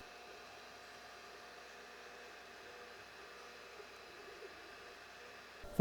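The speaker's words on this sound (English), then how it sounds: "I also noted how quiet the printer was." A HICTOP S250 budget 3D printer running quietly, a faint, steady mechanical whir with a few tiny ticks near the end.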